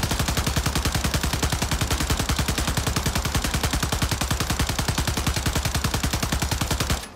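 Rapid automatic gunfire from a Taq Eradicator rifle in a video game firing range, a steady unbroken burst of loud, evenly spaced shots lasting about seven seconds before stopping abruptly.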